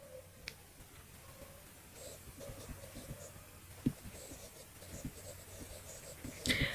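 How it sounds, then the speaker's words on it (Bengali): Chalk or marker strokes on a board during a general knowledge class, a steady run of faint scratchy taps and scrapes at close range with no talk over them. "আর্য সমাজ আমি লিখে রাখি"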